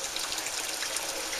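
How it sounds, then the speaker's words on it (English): Boiling water pours into a bowl holding ground bread-mix ingredients and molasses, a steady hissing trickle that runs without a break for a moment and plays close with no voices. "And now hot water, I have boiling water"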